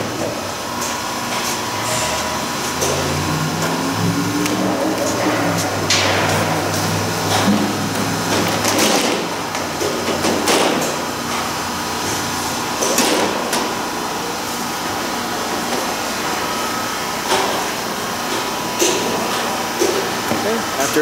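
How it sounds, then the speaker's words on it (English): Vacuum forming machine for acrylic and polycarbonate signs opening its clamps while a plastic sheet is loaded, a steady mechanical hum with a low sliding whir and occasional clunks, a person talking over it. "we will open the clamps up. We're going to be loading a sheet of plastic into the machine."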